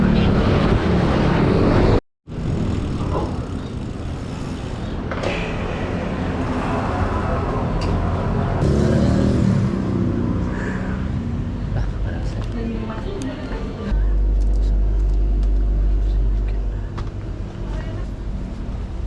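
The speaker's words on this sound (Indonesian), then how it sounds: "Suaranya suara motor semua bro, bah bareng sama orang berangkat kerja soalnya" Steady engine rumble of morning commuter motorbike traffic, with motorbike drones rising and fading nearby and a deeper idling hum later, a voice talking over it.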